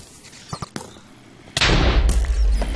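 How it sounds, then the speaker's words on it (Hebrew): A few small clicks and taps, then a sudden loud Minecraft explosion that booms and rumbles on to the end. "וואו, איזה פיצוץ"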